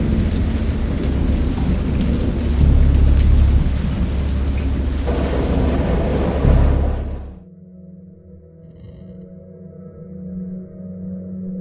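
Heavy rain pours with rolling thunder in the game Dagon, a loud dense roar that cuts off abruptly, giving way to a quieter low ambient drone and a faint tonal pattern.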